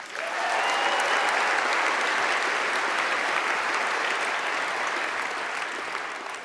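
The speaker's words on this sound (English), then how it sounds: "One more round of applause for the Bacon Brothers" A large conference audience gives a sustained round of dense, loud applause for the Bacon Brothers, a steady wash of clapping that holds for several seconds and eases slightly at the end.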